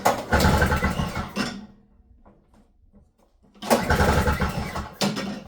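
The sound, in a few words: pulling starter cord on a snowblower engine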